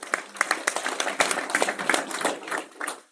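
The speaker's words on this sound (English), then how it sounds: "Yes, give them a round of applause." A small crowd at a live wealth builders' event gives a brief round of applause, with scattered, distinct claps from a modest group that stay fairly loud and fade after about three seconds.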